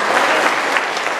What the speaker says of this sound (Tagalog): Lakas na palakpak sa ating buhay ng Diyos.